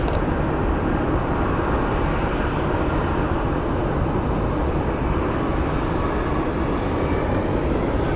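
A Southwest Airlines Boeing 737 MAX 8 roars on the runway, a loud steady broadband jet rumble that fills the whole stretch without pause.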